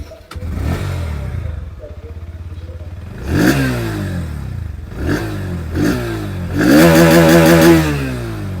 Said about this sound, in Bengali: যে এক্সস্ট সাউন্ড, এটা কিন্তু তিনটে বাইকেরই শোনাবো।